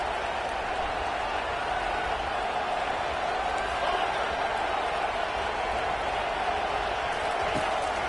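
Loud, steady roar of a packed football stadium crowd during a late fourth-quarter two-point conversion attempt, a dense wall of noise sustained throughout without letting up.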